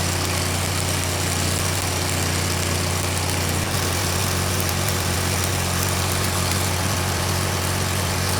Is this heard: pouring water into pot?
no